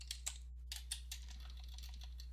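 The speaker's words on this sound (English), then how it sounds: "I always notice that my typing is extremely bad when I do this type of exercise" Quick bursts of keystrokes on a computer keyboard during lens design work in optics software, soft uneven clicks over a constant low electrical hum, no speech.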